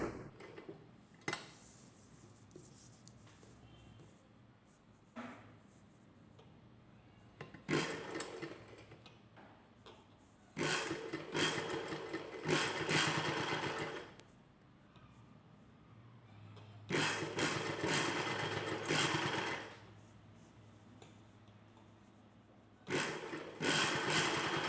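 A sewing machine stitches the collar neck of a dress in several bursts of rapid mechanical whirring, separated by quieter pauses, with faint clicks between runs.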